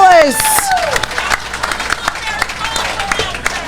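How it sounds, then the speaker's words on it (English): An audience at a Cocktails in the War Room taping breaks into a short burst of clapping and cheering close by, thinning into scattered claps under a voice and crowd noise. "a round of applause for the one and only Scruffy Wallace."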